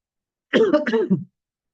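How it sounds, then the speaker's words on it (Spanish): A single short, throaty allergic cough in a few quick bursts, close and clear against silence. "Perdón, estoy con tos, estoy medio con una tos alérgica."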